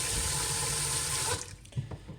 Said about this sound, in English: And then fill up this container with water.